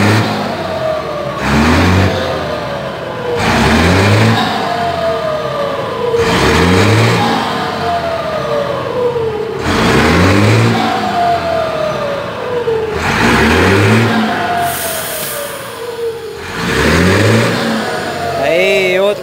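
A Mercedes-Benz 1721 truck with a modified turbo is revved repeatedly: about six loud, rising engine surges with a turbo whine, each followed by a drop back to idle, and a voice calls out between them.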